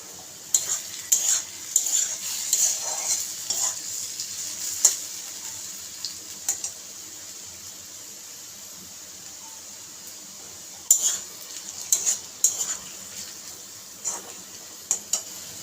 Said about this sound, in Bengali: এভাবে আলুটাকে ভেজে নেব আরও 2 থেকে 3 মিনিট